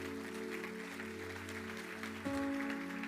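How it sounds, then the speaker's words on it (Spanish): Congregation applauding in a church, a steady wash of clapping over sustained keyboard or organ tones that shift to a new chord partway through. "Den un aplauso al Señor"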